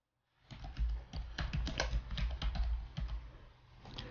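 Fingers tap out an email address and password on a computer keyboard, a fast irregular stream of close, crisp keystrokes over a low hum.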